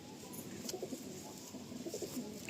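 Madrasi pigeons in a tree-lined courtyard give a few soft, low coos, faint and brief against quiet background hiss.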